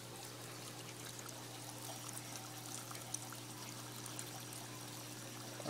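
Water drains through a bell siphon from an aquaponics tank, a steady close pouring and trickling flow with a constant low hum underneath, continuous and fairly quiet throughout.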